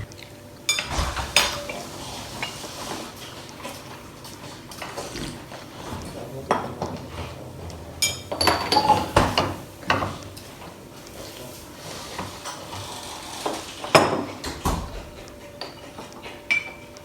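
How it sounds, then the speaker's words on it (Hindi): A spoon clinks and scrapes against a glass while sugar is stirred in, several bursts of tinkling knocks spaced irregularly amid quiet kitchen background. "हम उस चम्मच की टन से काफ़ी तंग पड़ जाते हैं"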